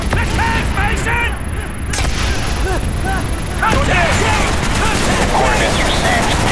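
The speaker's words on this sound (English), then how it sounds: "coming in for strafing run." Rapid, dense gunfire and booming impacts from an aerial strafing run in the video game Call of Duty Black Ops, loud and continuous under overlapping radio-style voices.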